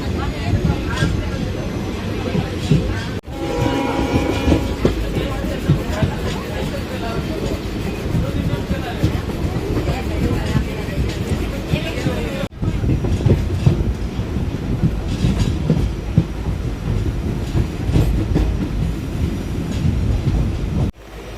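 A passenger train runs on the Bhavnagar to Porbandar line, its wheels giving a steady loud rumble with rattling carriage noise throughout, broken by two brief dips, while a voice speaks faintly underneath.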